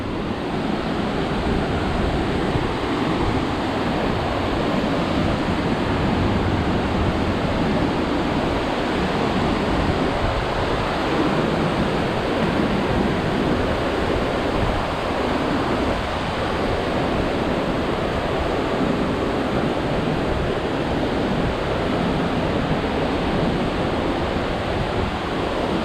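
Compression Falls roars as a powerful waterfall, a loud, dense, unbroken rush of falling water with wind buffeting the microphone throughout and no voices.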